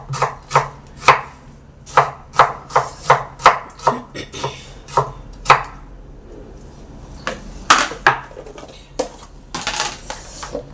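Knife chopping halved onion and tomato on a board for a ground masala paste, a rapid run of sharp, evenly spaced close taps, pausing briefly midway and resuming in a looser, slower series.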